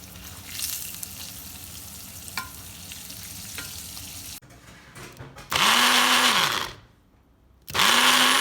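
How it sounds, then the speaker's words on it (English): Chopped pandan leaves simmer in Earth Balance vegan butter with a steady, soft sizzling hiss for several seconds, then give way to two loud, whirring bursts from a blender. "I'm going to simmer these with a little bit of earth balance"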